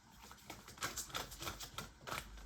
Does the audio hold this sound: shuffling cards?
yes